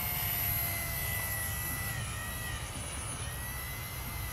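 A small Walkera V120D05 flybarless RC helicopter climbing, its rotor and motor whining steadily, the pitch holding high and even throughout, heard from a short distance.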